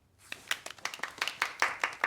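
About a dozen sharp hand claps in an irregular, quickening rhythm, close and crisp.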